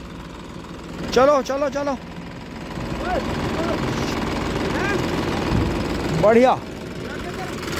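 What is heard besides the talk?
Massey and Mahindra tractor engine running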